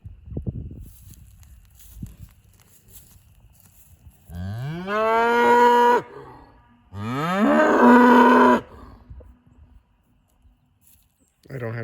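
A farm cow moos twice, loud and close, each low drawn-out call lasting over a second, with quiet shuffling and faint movement between and a soft voice nearby.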